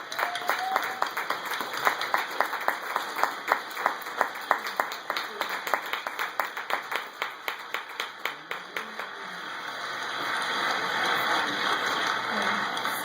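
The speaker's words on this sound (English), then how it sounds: "Let's actually get stand and give them a round of applause." A hall audience stands and claps for a team of young national cheerleading champions at a mayor's address in Hillside, New Jersey, a run of sharp rhythmic hand claps that swells and blends into a dense wash of applause toward the end.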